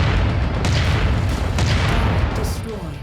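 A rumbling, low-heavy explosion as an enemy is destroyed in MechWarrior 5: Mercenaries, a loud, dense blast lasting the full few seconds with a faint voice mixed in.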